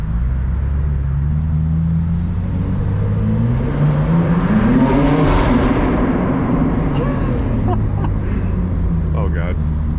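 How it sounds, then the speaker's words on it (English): BMW M2 G87 with a loud exhaust burbling and rumbling inside a parking garage, a deep continuous engine drone with rising revs, echoing close by as a voice talks over it. "Burbles sound great in the garage."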